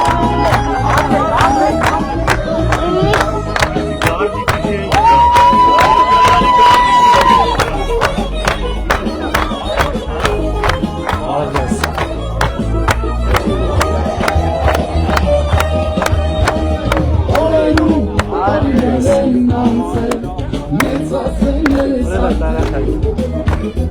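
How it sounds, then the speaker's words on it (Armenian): A large outdoor crowd at a Nor Nork peace rally in Yerevan claps and cheers for the participants, with sharp hand claps, shouts and voices running loudly and continuously throughout, and a sustained musical tone rising briefly through the din. "Ծափերով ողջունում ենք մեր ժողովրդի մասնակիցներին։"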